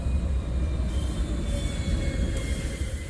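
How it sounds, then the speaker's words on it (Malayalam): The Kota Superfast Express stands at the Nagore railway station platform at night, with a continuous low, heavy rumble of the train and faint high squeals, fairly distant and steady, with no talk. "നമുക്ക് പോകാനുള്ള കോട്ട സൂപ്പർഫാസ്റ്റ് എക്സ്പ്രസ് പ്ലാറ്റ്ഫോമിൽ എത്തിയിട്ടുണ്ട്"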